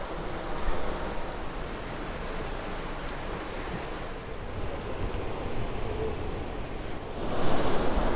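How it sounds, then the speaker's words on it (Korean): Ocean surf washes in a continuous broad roar at a seaside café in Uljin, South Korea, with rain and wind blending into the rush and a wave swelling louder near the end. "비에 젖은 파도"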